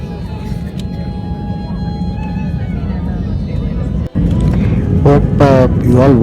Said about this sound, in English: now we are approaching the main runway for takeoff.